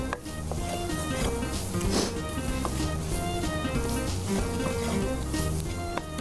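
Maida (refined flour) roasts in a pan as the base for a mushroom sauce, giving a steady, soft sizzle and crackle that runs without a break throughout, close by and moderately loud.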